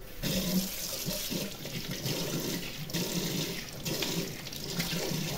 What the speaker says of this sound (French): je vais venir boucher et mettre un fond d'eau